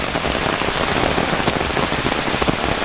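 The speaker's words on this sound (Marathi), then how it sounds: "नागपंचमीच्या दिवशी देखील खूप मुसळधार पाऊस पडतो आहे आपल्या कोकणामध्ये" Heavy monsoon downpour in Konkan on Nag Panchami, a dense, loud, continuous hiss of rain beating on surfaces with no letup.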